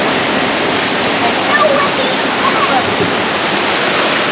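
Rushing water from three indoor waterfalls spilling into a filtered indoor river at a resort, a steady broadband roar that stays constant and close throughout.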